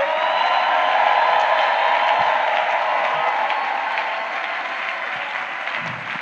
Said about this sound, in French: Est-ce qu'on peut encore acclamer?